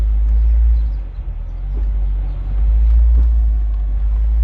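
A 1990 Tofaş Kartal station wagon reverses at the Dara ancient city site in Mardin, giving a steady low engine rumble and road hum that stays loud and continuous with small swells.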